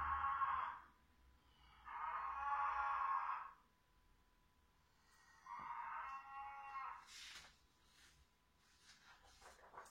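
A cow from the fields lets out long, low moos, two in close succession and then a third after a pause, heard alone and fairly close, with a few faint, brief noises trailing after.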